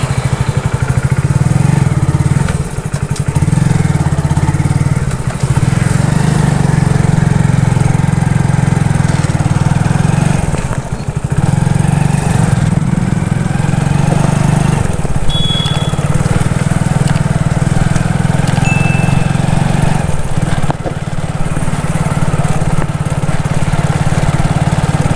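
A motorbike ridden along a road at Rajapur, Chitrakoot, with a continuous mid-pitched engine drone and wind rush close by, steady for the whole stretch with a few short dips, and no talking.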